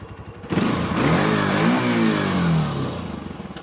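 A Honda CG 150 motorcycle engine idles, then is revved up and held high for about two seconds before dropping back toward idle, loud and close with a throaty mid-pitched drone and no talking.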